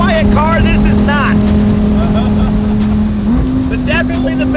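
Loud, steady engine drone from inside a low Lamborghini used as an Uber, a constant hum that shifts pitch slightly partway through, with people talking over it.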